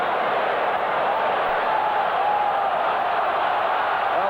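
Stadium crowd at a 1984 Australia versus Great Britain rugby league test match, a dense steady roar of shouting and chanting that fills the whole stretch without letting up, with no one speaking close by.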